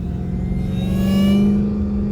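A supercharged Dodge Hellcat Jailbreak engine holds a loud, steady whine with a rising tone that swells in the middle and then eases off, layered over a deep engine rumble, with no talking.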